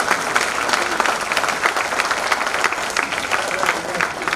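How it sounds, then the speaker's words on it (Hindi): Dense, continuous clapping from an auditorium audience welcoming the chief guest at a heart club meeting, loud and sustained throughout with crowd murmur underneath. "तो इनके लिए तालियां बजाई जाए।"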